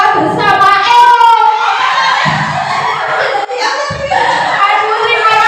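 An audience of children and adults claps and cheers at a school event, loud overlapping applause with shouting voices throughout.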